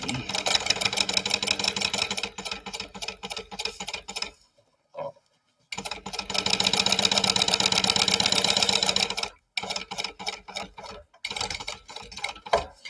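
A sewing machine top stitches fabric in fast, even rattling runs, close and loud, broken by short pauses where the stitching stops and restarts.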